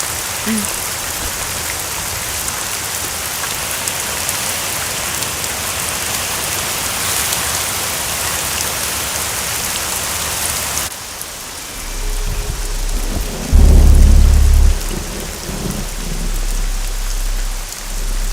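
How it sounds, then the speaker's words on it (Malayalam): Heavy rain pours steadily, with a brief deep rumble of thunder rising near the end before the downpour continues. "നന്നായിട്ട് ഇടിയും വെട്ടുന്നുണ്ട്"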